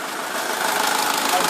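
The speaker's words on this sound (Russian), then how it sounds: "Запускаете двигатель." A SsangYong Kyron engine idles after an oil change, a steady mid-pitched hum with slight vibration, while someone speaks over it.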